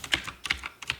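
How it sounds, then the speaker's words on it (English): Quick keystrokes on a computer keyboard as a search term goes into a Chrome browser, a handful of light clicks in short clusters, close and fairly soft. "So you have to do is type over here Adobe Acrobat"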